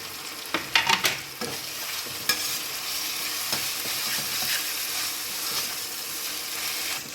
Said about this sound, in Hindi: अदरक लहसुन का पेस्ट और हरी मिर्च प्याज में डालकर थोड़ी देर भुना गया।